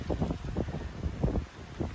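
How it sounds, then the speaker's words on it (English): Strong wind buffets the microphone in rumbling, uneven gusts, a low roaring rush that swells and fades throughout, with no voices. "It's getting really windy."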